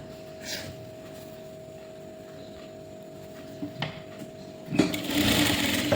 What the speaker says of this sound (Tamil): அடுத்தது இது எப்படி தைக்கிறதுன்னு பார்ப்போம்.